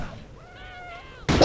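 A house cat gives a single drawn-out, rising-and-falling meow close to the mic, then a sudden loud burst of noise cuts in right after it.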